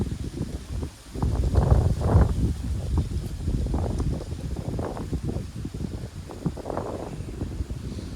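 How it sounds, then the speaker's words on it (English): Steady wind buffets the microphone with low rumbling gusts that rise and fall throughout, broad and continuous with no clear voice. "It's windy. I don't know how much you can hear of me today."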